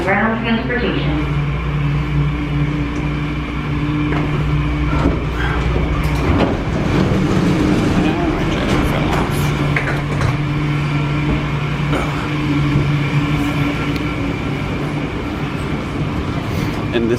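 A CVG airport people mover train pulling into the terminal, with a steady rumbling hum, rolling clatter and squealing tones over about seventeen seconds, while an automated announcement voice talks.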